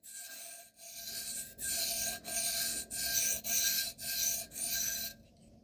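A kitchen knife is pushed in repeated strokes across a soaked 1000-grit Pride Abrasive waterstone, giving a steady gritty rasp in about six evenly spaced passes, close and clear with no talking.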